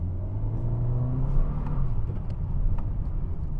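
A 2022 Honda HR-V S with a non-turbo engine and CVT pulls away at full throttle, a loud, steady engine drone holding a smooth, gradually rising tone without distinct gear shifts.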